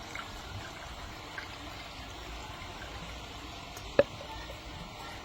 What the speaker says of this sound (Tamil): தண்ணி ஊற்றுறோம்.